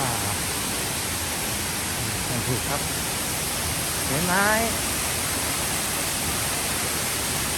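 Steady broadband roar of Kroeng Krawia waterfall in Sangkhla Buri, Kanchanaburi, close and constant throughout, with a voice speaking briefly over the rushing water midway.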